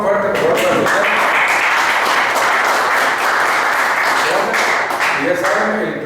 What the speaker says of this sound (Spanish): Un aplauso más fuerte por